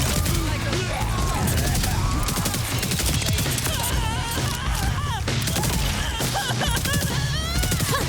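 Rapid gunfire in the Borderlands 4 video game, heavy and nearly continuous with crashing impacts, explosions and game effects filling a loud, chaotic mix, with voices talking over it.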